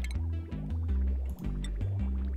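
Gurgling, bubbling liquid draining from a pipe in the game Oxygen Not Included, a continuous watery flow with drips, fairly quiet.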